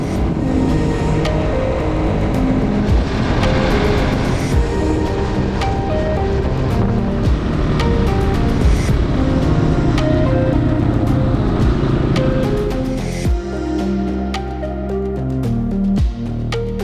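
A motorcycle rides along with a continuous, loud engine drone and wind rush, the note settling to a lower, steadier tone near the end as it slows.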